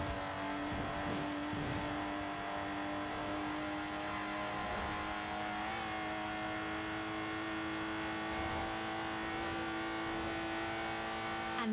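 Lotus Exige sports car driven in the racing video game Forza Horizon 4, its engine droning steadily and continuously throughout with a sustained harmonic tone, no talking over it.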